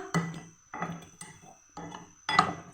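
A spoon clinks against a bowl as chicken marinade is mixed with cornflour. There are four separate scraping, clinking strokes at a steady pace, close and fairly quiet.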